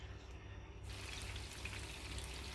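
Tilapia fish fries in oil in a non-stick pan, a steady close hiss and sizzle that swells abruptly after a brief quieter start and then holds evenly.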